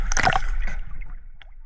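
A raging river current splashes and sloshes around a person wading across a river, with busy churning water loudest at the start and easing into lighter gurgles.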